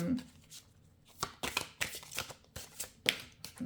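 Oracle cards being shuffled and drawn close by, with repeated crisp riffling bursts of paper. A voice speaks between the shuffles.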